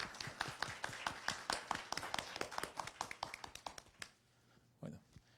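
An audience at an inspirational speaking event claps, a brisk run of sharp close hand claps for about four seconds before fading into near silence with one last soft thump.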